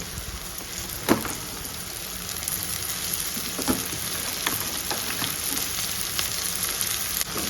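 Chopped okra fries in a pan for a crispy okra stir-fry, giving a steady dense sizzle and crackle throughout, with a few louder clicks of stirring or turning.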